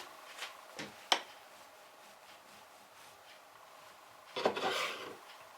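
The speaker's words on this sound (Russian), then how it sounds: "Нарезаем хлеб на небольшие, тоненькие ломтики." A knife slices through crustless bread into thin pieces, a few soft scraping strokes followed by a longer rasping cut, quiet and close with no talking.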